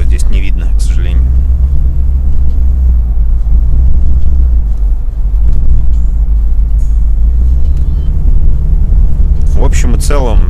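A UAZ engine runs steadily at about 1500 rpm while the vehicle drives at 60 km/h, a loud low rumble throughout with people talking over it at the start and end.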